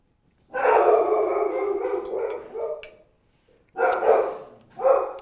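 Dogs bark and growl nearby in a rough, drawn-out burst, then fall quiet before two shorter barks follow.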